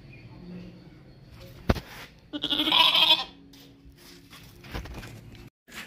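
A dairy goat that kidded twins about two weeks ago gives a loud, nasal bleat, close by amid livestock-pen murmur and scuffling, with a sharp knock just before.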